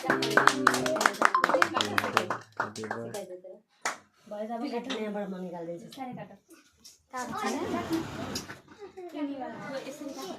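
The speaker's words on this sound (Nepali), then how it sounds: "थपडी मार ह्यापी बर्थडे" Hands clap at a child's birthday celebration, a quick burst of loud rhythmic claps at the start, followed by children and adults talking and singing over a lively room.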